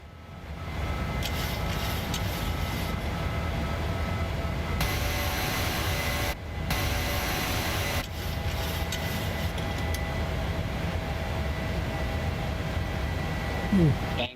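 A PMDG 737 jet taking off in Microsoft Flight Simulator, heard as a loud, steady, broad engine roar that holds throughout with a couple of brief dropouts.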